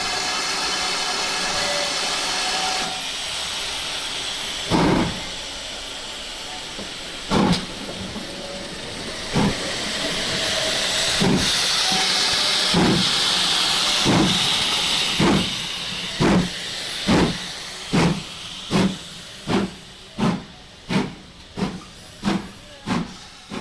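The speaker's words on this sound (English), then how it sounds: "Now with the line clear, Earlstoke Manor is able to depart Kidderminster." Steam locomotive Earlstoke Manor pulling out of Kidderminster at the Severn Valley spring steam gala, a steady roar of steam hiss with exhaust chuffs that start slow and spaced, then quicken into a rapid regular beat.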